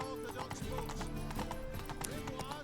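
Horse hooves clip-clopping at a gallop in The Witcher 3 through Novigrad, a steady rapid rhythm of close hoofbeats with a brief whinny, layered under game music and ambient crowd chatter throughout.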